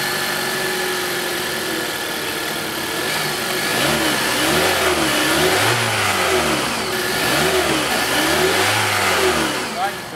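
A 2012 Kia Rio5 with a 1.6-liter double overhead cam engine revs up in several rising surges, its engine note climbing and falling repeatedly over a steady background hum, loud and close.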